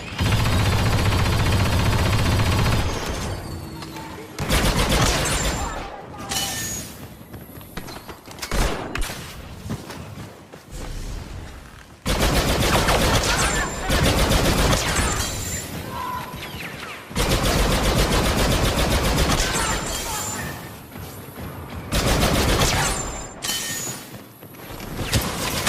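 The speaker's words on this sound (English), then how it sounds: "Deploying covering fire." Covering fire in Star Wars Battlefront 2, dense blaster volleys in loud sustained bursts separated by short lulls, mixed with crashes and mechanical clatter.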